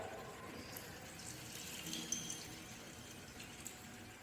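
Cloudy, milky rice-washing water is poured from a bowl into a kitchen sink, a faint, steady low trickle and splash running throughout.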